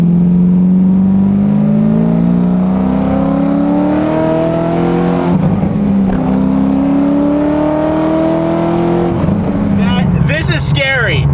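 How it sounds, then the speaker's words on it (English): Loud, close Corvette engine drone rising in pitch through successive gear pulls, a sporty exhaust roar with valves open that builds, with a brief voice near the end. "you still should be able to hear the car"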